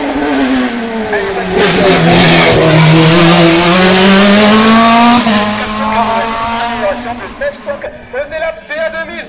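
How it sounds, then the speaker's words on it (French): A PA 2000 race car powers up a hill climb course at Bagnols-Sabran, its engine loud and close, rising and falling through gear changes before fading into the distance, with a commentator talking over it. "Cette voiture, cette monture serait une ex-Mike Schumacher"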